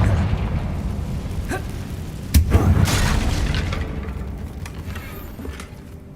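A Confringo fire spell in Hogwarts Legacy bursts with a sharp, loud crack followed by a rumbling blast that slowly fades, with a few smaller pops scattered before and after.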